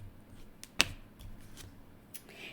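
A tarot card is drawn from a deck with one sharp, brief snap of card stock, surrounded by faint soft rustling in a quiet room.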